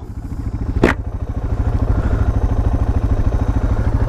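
A Suzuki DR650 dual-sport motorcycle engine runs steadily with a rapid, even thump close by, with one brief sharp rattle early on.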